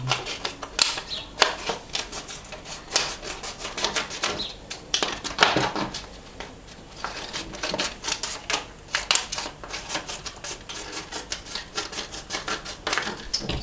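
Scissors snipping paper labels into strips for glaze buckets, a steady run of crisp, close cuts and rustles with short pauses between strokes.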